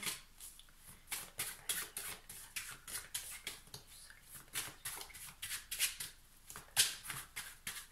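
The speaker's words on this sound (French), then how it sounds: "on va recouvrir un petit peu les cartes" Tarot cards are handled and shuffled in quick, repeated bursts of crisp papery flicks and slides, close and fairly loud, in a steady uneven rhythm with no voices.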